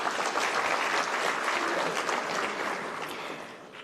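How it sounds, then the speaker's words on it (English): Applause from an audience at an investment forum in Singapore, honouring award recipients. The dense, even clapping rises steadily and then slowly fades, with no voices over it. "Let us give a warm round of applause to the recipients."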